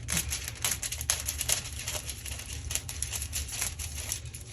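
Scissors snipping through thin gold mink foil, a quick series of close, crisp little cuts and crinkles in a quiet room.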